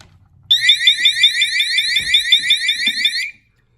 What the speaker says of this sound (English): If you're home, it sounds like a fire alarm.